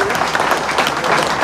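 A hall full of people at the 25th anniversary of the Le Jeteur jeu de boules club in Schaijk applauds Mari, the club's founder and former chair, in a loud, continuous wash of clapping.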